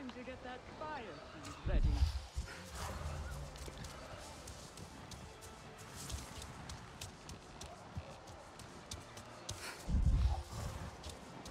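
Mounts in Avatar: Frontiers of Pandora gallop after cows, with two loud bursts of thudding hoofbeats rising over quieter game ambience, and someone talks through much of it.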